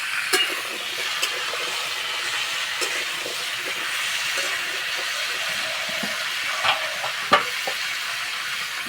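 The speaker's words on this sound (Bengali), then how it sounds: "মানে আস্তে আস্তে জাল দেবো, কুমড়োটা ভেজে নেব।" Raw pumpkin fries in oil with dried red chillies and whole mustard seeds, a steady soft sizzle broken by occasional sharp pops and utensil clicks.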